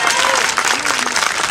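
Audience applause fills a local police safety award ceremony in Soleto, a dense, steady wash of clapping from a crowd that stays loud and close for the whole stretch.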